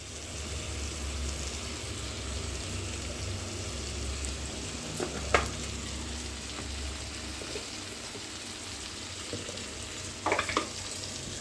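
Masala spices sizzle in a hot frying pan with a soft, continuous crackle and hiss, broken by a few sharper clinks from stirring near the middle and again toward the end.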